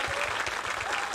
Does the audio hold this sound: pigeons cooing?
no